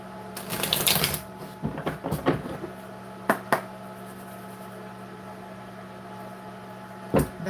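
Tarot cards are shuffled by hand, a riffling flurry of papery clicks up front followed by a few separate short snaps and taps, then quiet with a final sharp knock near the end.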